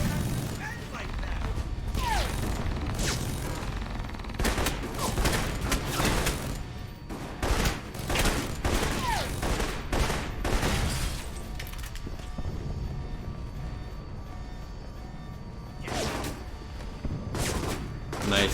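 Sustained turret gunfire in Alpha Protocol, loud repeated bursts and crashing impacts with mechanical clatter running almost continuously, a brief lull near the end before more shots.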